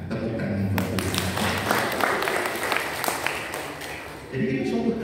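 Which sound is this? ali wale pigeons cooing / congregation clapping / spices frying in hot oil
congregation clapping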